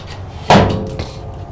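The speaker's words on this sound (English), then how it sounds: "Oh, latch this one off real quick." A padded stall divider in a 2021 Logan Coach Bullseye two-horse bumper-pull trailer latches with one sharp, loud metallic clank followed by a fainter rattle, heard alone.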